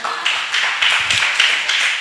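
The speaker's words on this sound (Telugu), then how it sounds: "గట్టిగా చప్పట్లు కొడదామా?" A church congregation claps loudly in unison, a run of sharp, rhythmic group claps about every quarter second, close and strong.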